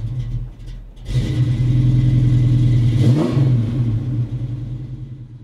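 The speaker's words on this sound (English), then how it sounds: "one of his restoration projects, a 1970 Ford Mustang" A 1970 Ford Mustang's engine roars to life after a brief quiet and holds a loud, steady rumbling rev, with a short surge in pitch midway before settling back down.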